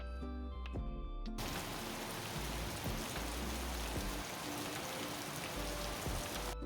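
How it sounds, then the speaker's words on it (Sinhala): Heavy rain pouring down steadily outside a home, a dense continuous hiss of drops on surfaces that holds at an even level for several seconds, with a low hum underneath. "ඉතින් ඔන්න ඒ අතරේ හොඳටම වහින්න පටන් ගත්තා."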